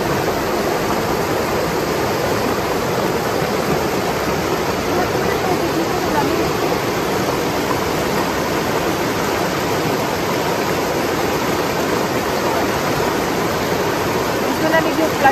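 The Bow River flows in a loud, unbroken rushing wash, a steady broadband roar that holds at the same level throughout.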